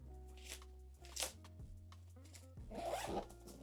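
The zipper of a zippered pocket on a Black Ember Citadel bag is pulled in short, quiet rasping strokes, close and faint, with a soft rustle of fabric.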